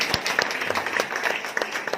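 An audience at a training session in Panipat claps to welcome a speaker, a moderately loud, uneven patter of hands with distinct sharp claps standing out from the crowd, no talking over it.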